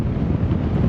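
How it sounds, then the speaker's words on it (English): Strong wind buffets the microphone on a boat, a steady roar with low rumble filling the whole moment, loud and close with no other sound standing out. "It's too windy."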